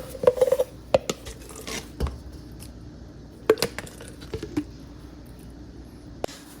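Thick mayonnaise spooned and scraped from a 30-ounce jar onto macaroni salad in a bowl, with scattered soft clinks and wet plops at the start and a few more taps later, fairly quiet and without talk.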